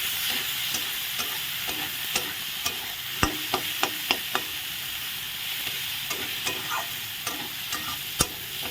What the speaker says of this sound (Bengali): এখন দিয়ে দিলাম মিট মশলা আর লঙ্কার গুঁড়ো দিয়ে ভালো করে নেড়ে নিচ্ছি।